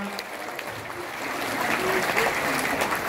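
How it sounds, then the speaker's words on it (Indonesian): Steady applause from a crowd at a Democrat Party political event in Indonesia, a dense wash of clapping that swells slightly louder toward the end, with faint voices underneath. "berikan tepuk tangan"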